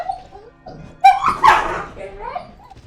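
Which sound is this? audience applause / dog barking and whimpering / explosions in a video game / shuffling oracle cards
dog barking and whimpering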